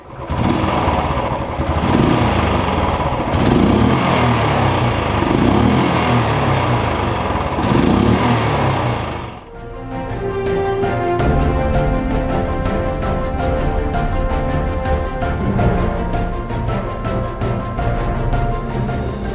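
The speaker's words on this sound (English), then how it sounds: "That is a damn loud and a thumpy exhaust note." Loud, thumpy exhaust note of a Honda H'ness CB350 motorcycle rumbling steadily for the whole stretch, with a brief dip and change in tone partway through.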